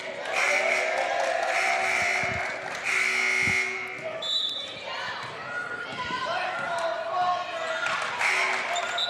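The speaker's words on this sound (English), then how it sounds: "we've got buzzers sounding all over the place" Buzzers sound in a high school gym during a girls basketball game: sustained electronic tones come in bursts over ball bounces and crowd noise, while people talk throughout.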